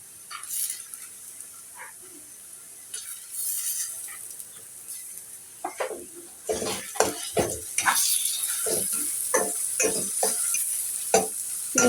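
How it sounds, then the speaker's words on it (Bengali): Shrimp frying with onions in a pan, a steady sizzle broken by frequent scraping and stirring clatters of a utensil against the pan, growing busier partway through. "এখন চিংড়ি মাছ দিয়ে দেব"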